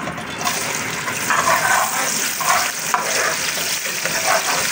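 Onions sizzle in two spoonfuls of hot oil for a fish biryani, a steady loud crackling hiss with some stirring and scraping over it.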